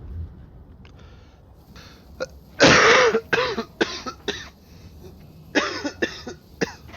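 A person coughs several times in quick bursts, harsh and close, with a throat-clearing sound and quiet pauses between the fits.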